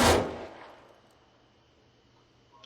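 A single loud gunshot in the video game Arma 3 cracks at the start and then echoes away into quiet, with a faint click near the end.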